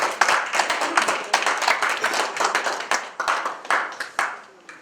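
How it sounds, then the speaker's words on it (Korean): A small seminar audience claps to welcome a guest speaker. Individual hand claps are distinct and fairly close, coming in uneven bursts that thin out toward the end. "조성철 교수님을 뜨거운 박수로 환영해 주시기 바랍니다"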